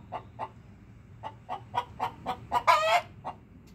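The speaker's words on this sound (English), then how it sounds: "she's still letting us know she laid an egg." A hen clucks repeatedly in a steady rhythm after laying an egg, building to a louder, drawn-out squawk near the end, nearby with quiet background.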